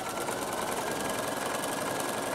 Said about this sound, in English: I'm just going to stitch along here and make a top stitch